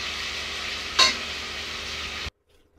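Tomatoes drop into cumin frying in a pan, giving a sudden brief sizzling burst over a steady hiss of hot oil, which then cuts off abruptly into near silence.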